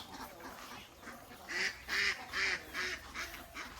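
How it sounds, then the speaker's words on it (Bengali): Ducks in a rural Bangladeshi homestead yard give a run of short nasal quacks, several calls in quick succession rising in loudness over the last two seconds, heard fairly close. "হাঁসগুলো জানান দিল"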